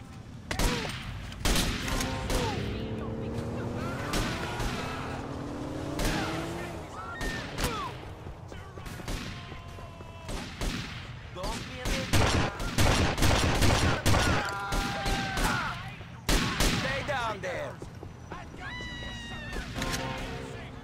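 A Grand Theft Auto: Vice City mod plays rapid bursts of gunfire, loud and repeated sharp shots with some sustained volleys. Voices and other game sounds run underneath.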